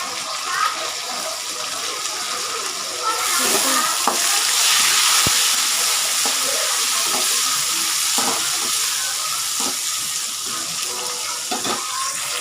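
Onions and tomatoes frying in a pan for a home-cooked Tamil meal, a continuous close sizzle and crackle with occasional stirring scrapes running the whole time, no talking.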